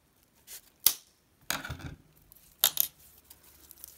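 Scissors snip off excess yarn while a bag is being crocheted, giving a few short, quiet cuts and light clicks in an otherwise quiet room.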